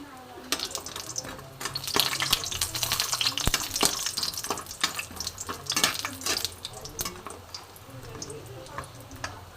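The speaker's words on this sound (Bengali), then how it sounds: "কলাইয়ের ডালের বড়ি আমি এতে ভেজে নেব" Urad dal bori sizzles in hot mustard oil in a pan, a crackling fry with sharp pops and spatters breaking through the steady hiss, close and moderately loud.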